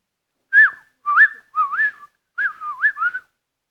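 A person whistles in a church service, producing six short wavering notes in two groups, close and clear, with no other sound.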